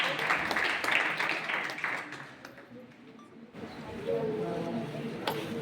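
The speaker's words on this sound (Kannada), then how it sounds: "ಅವ್ರಿಗೆ ಒಂದ್ಸರ್ತಿ ಚಪ್ಪಾಳೆ ತಟ್ಟಿ ಅಭಿನಂದಿಸ್ತಾರೆ." A crowd claps for a couple of seconds at a ceremony honouring a student, the applause fading out before some distant voices and background murmur.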